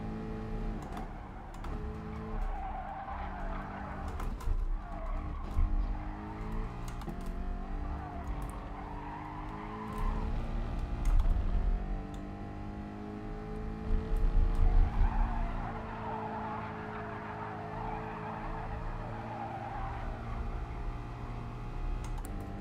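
Gr4 race cars in Gran Turismo Sport running side by side, engines droning continuously while tires squeal and skid in long swells, with a sharper surge near the middle.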